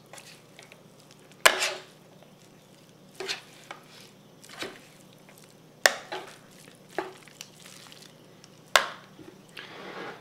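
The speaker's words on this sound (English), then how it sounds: "we're going to take the tongs and just mix it up real nice" Tongs working through a pile of sauced pulled pork for sandwiches, a few separate bursts of wet squelching and metal clicks spaced a couple of seconds apart, quiet in between.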